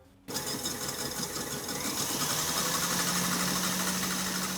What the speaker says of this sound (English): now we're going to get a little bit noisy with our whisking of our meringue.